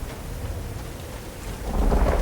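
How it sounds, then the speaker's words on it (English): Rain patters steadily in the Uru Live video game while low thunder rumbles underneath, swelling into a louder, deeper roll near the end, with no talking. "And now it is raining here."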